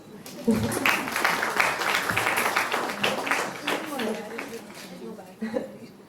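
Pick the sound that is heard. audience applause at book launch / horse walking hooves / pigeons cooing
audience applause at book launch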